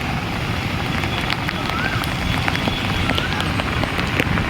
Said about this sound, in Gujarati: સારું એવું પૂર આવ્યું છે જો અને પાણીનો પ્રવાહ એ સારો છે